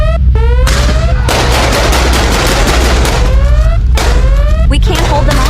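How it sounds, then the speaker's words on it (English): Rapid automatic gunfire sound effect in a virus outbreak emergency scenario, loud bursts of shots with rising whining tones and shouted voices over the barrage. "Open fire!"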